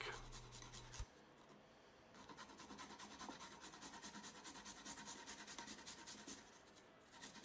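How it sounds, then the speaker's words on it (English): A fresh garlic clove being grated, rapid rhythmic rasping strokes that run in a steady, close, quiet series after a brief hum at the start, with no talking. "we're going to grate in 1 fresh clove of garlic"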